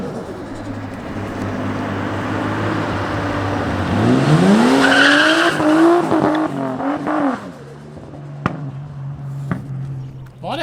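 A Nissan S13 with an R33 engine revs up with a rising, wavering pitch from a slipping clutch, held high for a few seconds and then dropping back to a rough idle, with clicks afterward.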